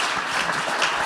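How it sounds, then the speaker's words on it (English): Audience applause at a panel event on nature markets, a brief steady wash of many hands clapping at moderate loudness, with no voices over it. "please a round of applause for Joanne for sharing her thoughts with us"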